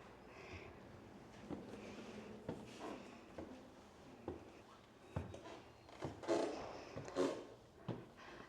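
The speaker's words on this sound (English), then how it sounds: "I love the creak of these stairs" Scattered wooden creaks and thumps from the staircase of the Shorter Mansion underfoot, irregular and fairly close, with a few louder groans near the end.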